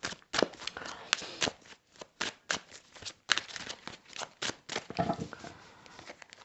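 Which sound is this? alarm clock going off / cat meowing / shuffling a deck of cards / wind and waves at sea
shuffling a deck of cards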